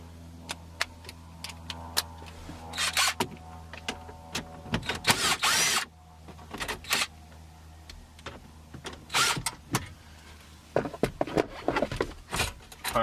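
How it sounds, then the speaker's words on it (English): A power drill with an extension removes screws from the radio in a wrecked Scion FR-S, short whirring bursts broken by clicks, taps and rattles of tools and panels, close up with no talking. "You might need an extension if you're using a drill."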